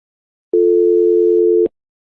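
A single steady telephone dial tone, a pure sustained hum lasting about a second, cut off abruptly with a click, alone with no voices.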